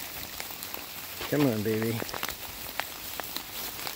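Steady rain pattering outdoors while birch bark rounds are being gathered and loosened, a continuous fine hiss lasting throughout, with a voice speaking briefly partway through.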